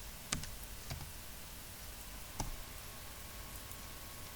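Faint, sparse computer mouse clicks, three or so single taps spread over a few seconds, sound against a steady low hiss while someone works in Smartbiz business software.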